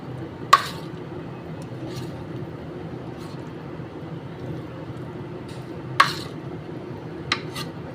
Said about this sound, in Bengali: আর উপর নিচ করে দিচ্ছি কেওড়ার জলটাকে